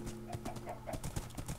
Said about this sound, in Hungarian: És lovak! Rengeteg ló van amúgy.